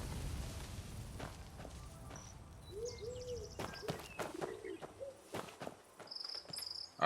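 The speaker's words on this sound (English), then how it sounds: "I can hear the pigeons, but I can't see them anywhere." Pigeons coo softly in the game Where Winds Meet, a few low burbling calls over a steady bed of crickets and outdoor ambience, with scattered footstep clicks and other bird chirps nearby.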